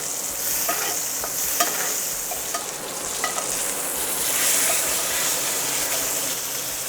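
Salmon in a pan is basted with brown butter, giving a loud, continuous hiss and crackle of hot fat with light repeated spoon clinks against the pan.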